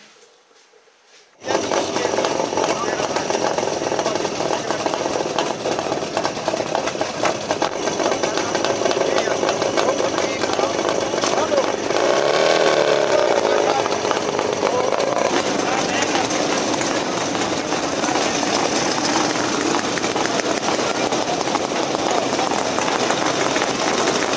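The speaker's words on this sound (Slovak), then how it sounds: "Počujete motorku, tak čo?" A motorcycle engine starts up and drones on steadily at a constant pitch, loud and near, with a speaking voice heard briefly over it, at a veteran vehicle meet in Brezno, Slovakia.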